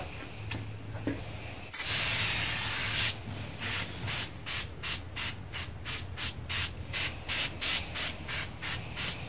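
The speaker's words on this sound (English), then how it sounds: "what I have here is some spray glass cleaner. It should foam up." A can of foaming glass cleaner sprays onto a 10-inch telescope mirror in one long, loud hiss. A steady series of short rhythmic rubbing or wiping strokes follows.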